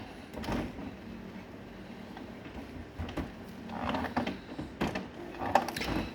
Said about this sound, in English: When I say OK, it will try then to calibrate the new cartridge.